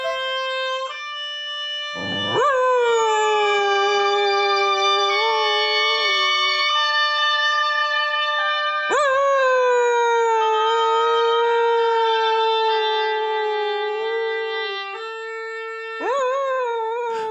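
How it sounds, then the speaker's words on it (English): A dog howls and yips in long sliding tones along with oboes, its rising and falling wails laid over sustained reed notes, with fresh howls starting near 2, 9 and 16 seconds. "The reason I want you to hear a dog singing with oboes"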